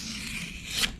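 A single quick scissor snip through vinyl decal transfer tape, close and quiet, with light rubbing beforehand.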